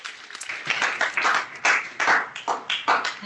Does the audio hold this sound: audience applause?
yes